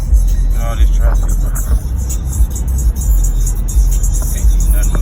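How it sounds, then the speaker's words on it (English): Road traffic heard from inside a moving car, a steady low rumble of engine and tyre noise with vehicles passing, continuous throughout with no clear speech over it. "Look at all this traffic."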